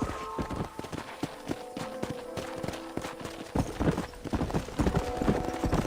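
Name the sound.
horse hooves from a video game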